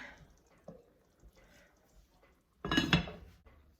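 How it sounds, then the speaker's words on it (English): Faint kitchen clinks lead to a single heavy metallic clank as a lid is set down onto a Dutch oven of jambalaya, ringing briefly. "I'm putting the cover on"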